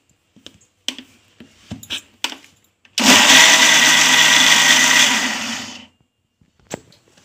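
An electric mixer grinder runs loud and close for about three seconds, whirring through a healthy drink paste, framed by a few sharp clicks and knocks of the jar before and after.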